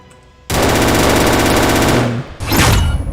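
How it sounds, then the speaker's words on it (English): AK rifle fires in full-auto bursts in a homemade Warzone-style shooter game: a loud, rapid rattling stream of shots for about a second and a half, a brief pause, then another short burst. "Let me just use this AK to kill this guy, last guy."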